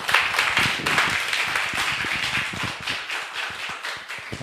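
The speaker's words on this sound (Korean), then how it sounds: "여러분 다 함께 크게 박수로 환영합니다" Church audience claps loudly to welcome a missionary pastor to the front, a close burst of many hands clapping at a brisk uneven rhythm that thins slightly toward the end, with no talking.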